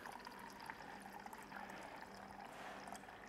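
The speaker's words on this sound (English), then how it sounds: "So I need to add some filtered water into my" Filtered water poured into the reservoir of a combi oven, a faint steady trickle that runs continuously for a few seconds with no talking.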